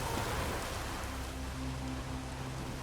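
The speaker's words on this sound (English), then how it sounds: "Oh, raining again." Steady rain hisses across an outdoor scene in The Witcher 3, a dense, even wash of falling water with a faint low rumble beneath and no voices.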